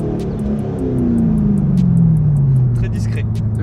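A 350 hp Corvette engine drones loudly and steadily close by, its pitch sliding gradually lower through a gear change. Faint clicks sit above the engine.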